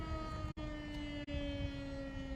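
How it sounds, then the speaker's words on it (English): Tornado sirens wailing in Linton, Indiana during a severe weather outbreak, a steady distant tone with harmonics sustained across the whole span, briefly cut by two short dropouts. "Got the tornado sirens going off in Linton."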